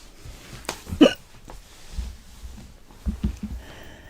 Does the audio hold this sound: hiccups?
yes